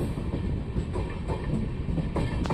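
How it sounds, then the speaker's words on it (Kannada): A passenger train rolls into Tiptur railway station, a continuous low rumble of wheels and carriages with faint rhythmic clatter and a brief squeal near the end. "ನಮ್ಮ ಟ್ರೈನ್ ಈಗ ತಿಪಟೂರು ರೈಲ್ವೆ ಸ್ಟೇಷನ್ಗೆ ಎಂಟ್ರಿ ಆಗ್ತಿದೆ"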